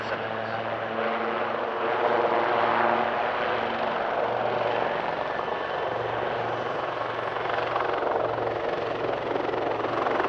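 A helicopter with new rotors and largely composite construction, transiting rearwards during an air show display, gives a loud, steady rotor and engine roar with a low pulsing beat that fills the whole stretch.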